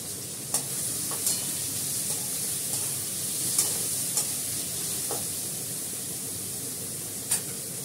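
Onion and garlic paste frying with potatoes in a pan gives a steady, close sizzle, with a handful of sharp spatula scrapes and clicks scattered through it and no talking.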